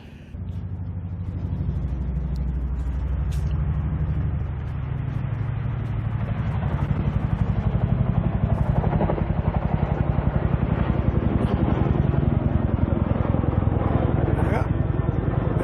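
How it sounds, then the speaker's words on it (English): A loud, throbbing Chinook helicopter drone with a deep rhythmic beat, building as it passes close overhead and staying strong throughout. "sorry for the distraction there with the helicopter"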